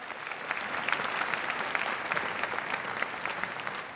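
An audience at a 2018 school arts honors ceremony gives the parents a hand: a steady wash of many hands clapping, moderately distant and even, with no voices over it.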